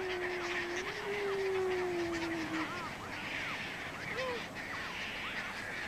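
Seabirds and gulls calling over the sea at Jemchujny in the Caspian, a steady chorus of overlapping honking and crying calls at moderate distance, with a long low tone and a narrating voice running beneath.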